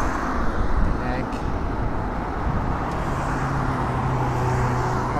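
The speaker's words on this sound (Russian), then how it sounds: "Сейчас я еду на самой маленькой передаче, чтобы не перегазовывать." An electric four-wheel-drive trike crawling along in its lowest gear gives off a steady, moderately loud whir and road rumble, with a faint voice briefly underneath.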